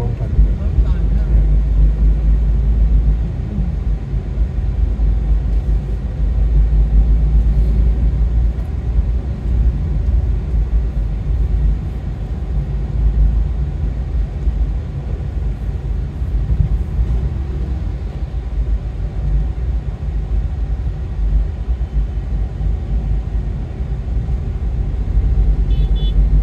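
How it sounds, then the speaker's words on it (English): Busy street traffic in Denpasar, a continuous loud rumble of cars and motorbikes with occasional horn toots, with people talking over it. "This way, very busy, you know? Mm-hmm. Yeah, lot of traffic."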